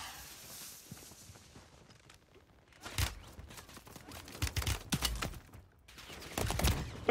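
Gunfire in the video game Warzone 3, including akimbo submachine guns: bursts of rapid shots in several clustered volleys after a quiet start, moderately loud, mixed with footsteps and movement clatter.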